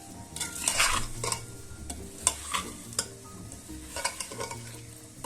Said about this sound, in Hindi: ये मैंने ग्राइंड कर लिया, ये इसमें चला जाएगा। इसको करेंगे मिक्स।